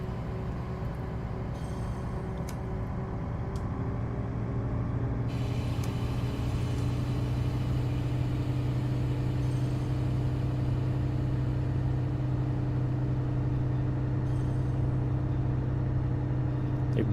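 A BR185 electric locomotive in Train Sim World 2 pulls away on a ramp, with a steady low electric drone and hum that builds slightly as it gets moving, and occasional faint clicks.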